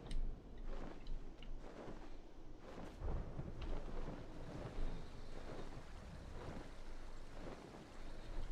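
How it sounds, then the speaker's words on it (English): Deep rolling thunder rumbles on and off through steady rain and wind noise, a heavy continuous storm wash with louder low booms swelling every few seconds. "I love the sound of thunder."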